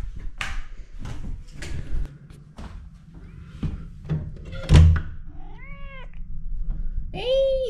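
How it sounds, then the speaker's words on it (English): A house cat meows several times, rising and falling calls near the mic, mixed with thuds and a door or drawer bump indoors, ending with a louder drawn-out meow. "let's go meet my cat"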